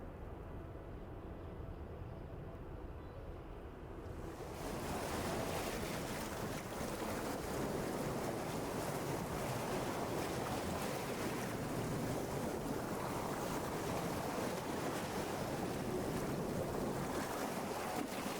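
Waves crash against rocks at Bondi Beach, a steady loud roar of surf with wind buffeting the microphone, growing fuller after the first few seconds and continuing without pause, no voices.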